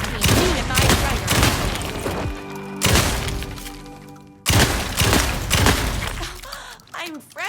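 Rapid, heavy bursts of gunfire and crashing impacts in the survival horror video game Alan Wake 2 fill the scene, loud and dense, with voices talking between and over the shots.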